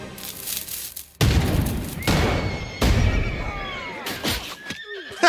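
Medieval hand cannons going off during a roadside ambush in Kingdom Come: Deliverance, with several loud, abrupt booms spaced a second or so apart, mixed with horses whinnying and shrieking close by.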